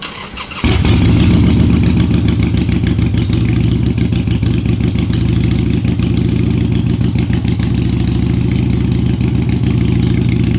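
A motorcycle engine starts up after a brief silence and settles into a steady, loud, rumbling idle that runs close by for the rest of the clip, with no talking.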